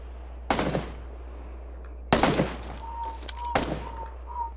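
Gunfire in the battle royale game PUBG: three loud, sharp bursts of shots spaced a second or so apart, each with a ringing tail, over a steady low hum, with a faint whistle-like tone between the later shots.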